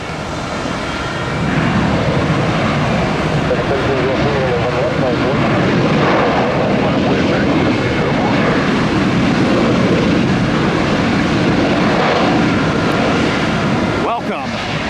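A 17-year-old Boeing 737-7 jet takes off from the runway. The engine roar is loud and sustained, rising in and holding steady under talk, then cut off near the end.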